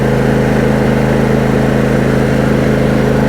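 A John Deere E180 lawn tractor engine runs at full throttle, a steady, loud, close droning hum with a constant pitch that holds without a break.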